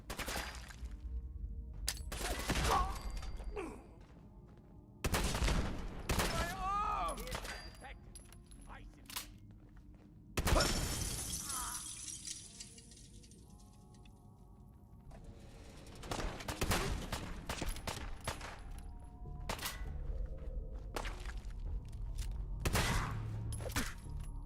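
Gunfire in a Fallout 4 firefight rings out in loud, close volleys of cracks and bursts separated by quieter gaps, with combatants shouting over and between the shots.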